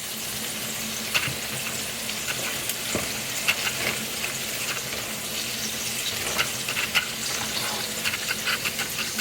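Fried corn with bacon being stirred in a hot pan: steady close sizzling and crackling frying throughout, with occasional scraping clicks of the utensil against the pan.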